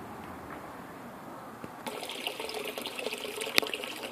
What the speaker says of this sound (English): the water is coming up, just about ready to cycle and flow into our supply lines